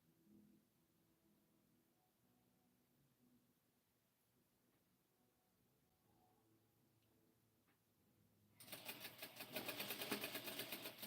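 After a quiet stretch, a sewing machine kicks in near the end. It stitches along a seam allowance with a loud, rapid, even mechanical chatter that carries on to the close.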